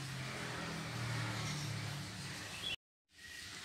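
A blender whirs steadily as it purees young coconut meat with coconut water, a close, continuous motor drone that cuts off abruptly near the end before faint room noise returns.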